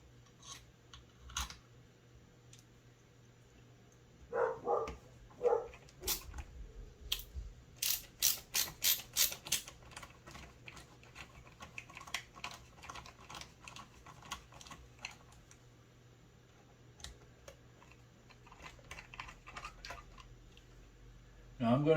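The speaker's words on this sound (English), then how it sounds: "I'll go ahead and put the motor housing back together" Motor housing of a Dewalt cordless chainsaw being reassembled by hand: scattered plastic clicks, snaps and ratcheting taps, some in quick bursts, close up against a quiet background.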